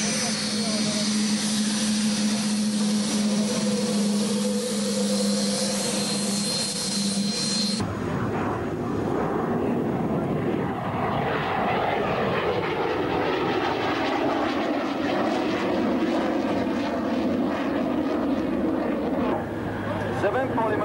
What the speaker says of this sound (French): le Jaguar donc est un avion franco-anglais